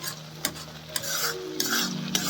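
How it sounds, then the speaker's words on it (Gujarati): Vermicelli being stirred without pause in a pan as its water cooks off, a soft bubbling sizzle punctuated by four sharp spoon scrapes against the pan, near and clear. "પાણી બધું બળે ત્યાં સુધી સતત હલાવતા રહી અને બધી વસ્તુ મિક્સ કરી લઈએ"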